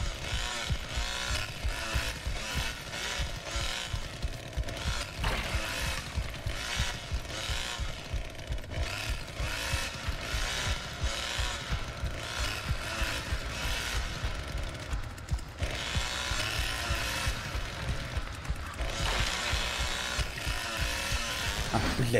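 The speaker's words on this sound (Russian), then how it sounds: "Я всегда бензопилу надрачиваю." Chainsaw revving in The Texas Chain Saw Massacre video game, a continuous loud buzzing engine with rapid pulsing throttle surges over mechanical clatter, running throughout.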